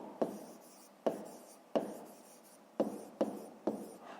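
A pen writes on paper during a fifth-grade maths exercise, producing six sharp strokes at irregular intervals, each followed by a soft scratching trail, close and fairly quiet with no talking.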